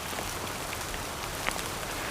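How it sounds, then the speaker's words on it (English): Heavy nighttime downpour in the wilderness, a dense, steady hiss of rain pounding on surfaces, close and continuous with scattered individual drop impacts and no voices. "It's been raining all night long, nonstop."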